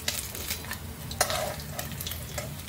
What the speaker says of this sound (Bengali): তেলটা আমার গরম হয়ে গেছে, এবার আমি মোরলা মাছগুলো ভেজে নেব।